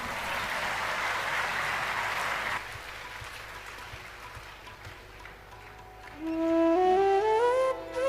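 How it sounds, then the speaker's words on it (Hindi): An audience at a spiritual discourse on Kashi and Lord Shiva claps for about two and a half seconds. Then the applause stops and a quieter pause follows, and a rising sung or musical tone closes the stretch. "एक बार बजाइए ताली इस पर।"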